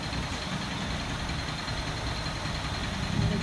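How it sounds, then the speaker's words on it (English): Heavy road traffic near Flat Bridge, with trucks rumbling past in a steady, dense, loud roar that holds level throughout, with no one talking. "Lots of traffic."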